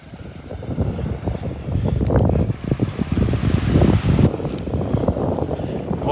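Wind gusts and breaking surf on the Gulf side beach of Marco Island, Florida, a loud, continuous roar with heavy wind buffeting on the microphone and a surge of wave wash in the middle.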